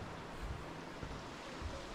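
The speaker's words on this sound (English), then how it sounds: "Like obviously the water's rushing, but it's not rapid" Steady broadband rush of a calm river flowing under a bridge on a Canadian Rockies hiking trail near Marble Canyon, a constant wash with faint low thumps and wind, no talking.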